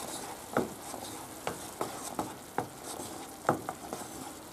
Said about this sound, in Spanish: Una vez que le hemos dado unas vueltas a los garbanzos